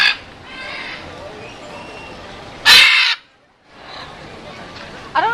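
Parrots squawk loudly nearby, one harsh burst at the start and a sharper louder squawk near the middle, then another at the end, over faint background murmur.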